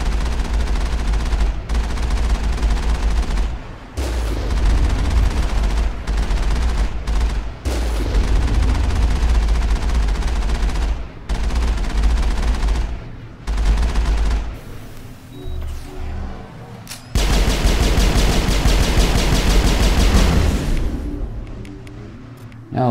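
A main gun blasts away in the Mass Effect video game amid heavy rapid gunfire, loud bursts of shots repeating in long volleys with brief gaps, then a final sustained barrage near the end.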